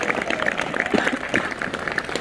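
A crowd at a school Republic Day function applauds the principal steadily, a dense patter of many hands clapping close by for the whole stretch.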